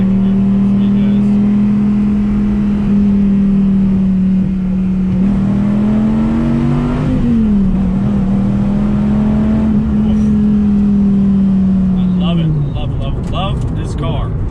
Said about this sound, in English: something about the way the V10 sounds